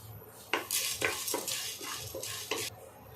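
Chana dal and urad dal roasting in a pan, heard as scraping spoon strokes and clinks against the metal at a steady stirring rhythm, fairly close with a faint background sizzle and no talking.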